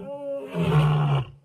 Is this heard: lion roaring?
yes